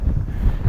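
Wind gusting across an open Lake District fell, a steady low rumbling buffet against the microphone that swells and eases over a brief moment, with no voices.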